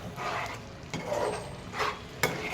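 Mushroom gravy with masala simmers in a pan, giving a faint bubbling sizzle broken by a few soft stirring scrapes, quiet and close.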